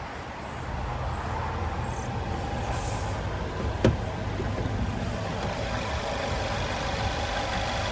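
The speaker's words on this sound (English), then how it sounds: "And there's that 2-liter turbocharged 4-cylinder." A 2021 Jeep Cherokee Limited's 2.0-liter turbocharged four-cylinder engine idles with the hood open, giving a steady, even rumble throughout with one brief click partway through.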